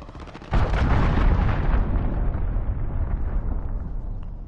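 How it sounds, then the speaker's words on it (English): A loud, close cruise missile explosion in the video game Modern Warfare. One sudden heavy blast lands after a brief quiet lead-in, then a long rumbling roar decays slowly across the rest of the clip. "Enemy cruise missile. Take cover."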